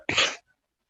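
One short, sharp human sneeze, close and fairly loud, lasting about a third of a second and followed by silence.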